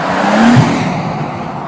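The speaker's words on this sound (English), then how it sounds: "we get to see very nice cars go past" A fast car goes past on a road near a Bentley garage, a single loud passing roar that swells and fades over under two seconds, with no talking.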